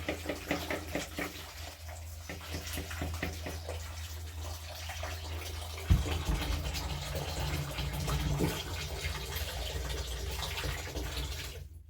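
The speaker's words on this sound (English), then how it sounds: "I will add some water here." Water pours from a tap into a tin for uji porridge, a steady faint splashing and rushing stream that runs for about twelve seconds with no talking.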